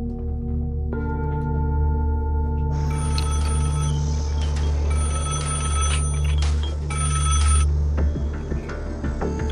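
A telephone rings repeatedly in a quiet indoor setting, bright electronic trilling bursts layered over a low steady hum, loud and close with no talking.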